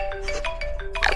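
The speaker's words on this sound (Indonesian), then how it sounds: "Saat mereka bersembunyi tanpa suara, tiba-tiba HP bunyi tuh." A mobile phone rings inside a restaurant in the film A Quiet Place II, playing a repeating electronic ringtone of bright pulsed tones that grows louder and harsher toward the end.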